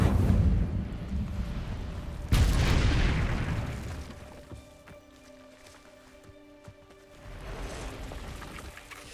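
A fire spell is cast in Hogwarts Legacy, hitting with a sudden loud burst and then a roaring, crackling whoosh that fades over several seconds before swelling again.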